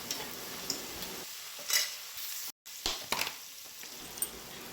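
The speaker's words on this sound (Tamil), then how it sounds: "இப்போ வெங்காயம் பார்த்திங்களா லைட் ப்ரௌனாக நல்லா வதங்கி வந்துருச்சு" Onions sautéing with salt in a pan for a country chicken curry, producing a soft, fairly quiet sizzle with scraping stir strokes and a brief drop-out midway. No one speaks.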